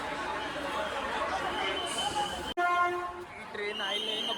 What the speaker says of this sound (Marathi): ट्रेन आली ना, पब्लिक बघा.